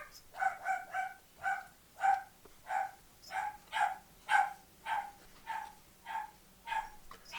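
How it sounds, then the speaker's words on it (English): A dog barks repeatedly at a steady rhythm, about a dozen sharp barks, somewhat distant and moderately loud. "have to excuse the dog barking."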